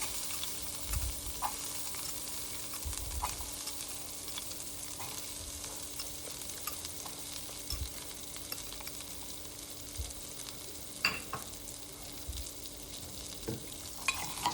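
Boiled peanuts are stirred in a frying pan, making a faint steady sizzle with occasional soft scrapes and taps, no one talking.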